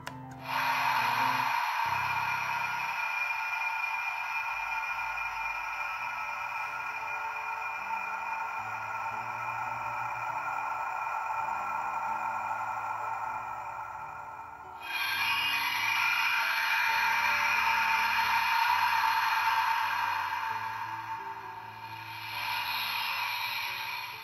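An electronic toy sound effect from a DX Ohma Zi-O driver transformation belt plays: a bright synthetic shimmer over a sequence of low tones, surging louder midway and again near the end.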